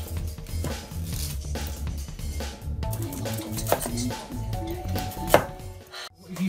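Knife chopping red cabbage for pickling on a board in a home kitchen, a steady run of sharp close cuts that keeps going with brief pauses throughout.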